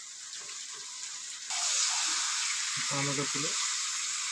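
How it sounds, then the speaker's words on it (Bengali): Chicken leg pieces and potatoes sizzle steadily while being sautéed in a hot pan, a continuous close hiss that grows louder partway through, with a brief voice speaking over it. "কষানো হচ্ছে রাখা আলুগুলা।"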